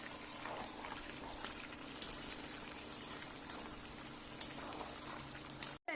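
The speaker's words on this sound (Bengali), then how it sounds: "গরম জল দিয়ে এই জলটা পুরো ফুটিয়ে আনবো" A pot of chicken curry with added hot water simmering toward a boil, giving a steady soft bubbling hiss with faint pops, quiet and continuous.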